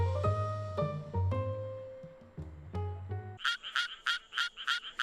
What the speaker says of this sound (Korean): 청개구리는 좀 더 빠르고 낮은 소리를 낸다.